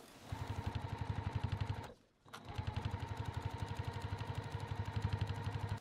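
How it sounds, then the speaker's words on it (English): A sewing machine stitching along a fabric edge with a 1/8 inch seam allowance on a quilted zipper tote, running close and loud at a fast, even pulse, pausing briefly and then resuming at the same pace. "we're gonna take this over to the sewing machine. And again, we're gonna sew right along this edge"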